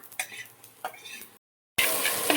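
Water is poured into a pan of spices frying in oil with salt and turmeric, and it bursts into a loud, steady hiss after a brief pause that follows quieter stirring and clinking.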